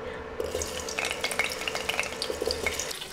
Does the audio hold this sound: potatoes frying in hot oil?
yes